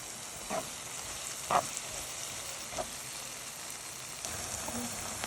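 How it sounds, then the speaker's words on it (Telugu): Onions fry in a pan with salt and turmeric, a steady faint sizzle with a few soft pops and spoon taps over it. "ఆనియన్స్ ఫాస్ట్గా ఫ్రై అవ్వడానికి సాల్ట్, పసుపు వేసుకొని ఫ్రై చేసుకోవాలి."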